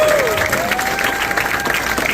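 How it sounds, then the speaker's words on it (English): A crowd at a political rally with Governor Glenn Youngkin applauds Marie, a campaign volunteer, in a dense, sustained burst of clapping and cheering that fills the whole moment, with a few whistle-like tones rising above it. "let's give her a round of applause for everything that"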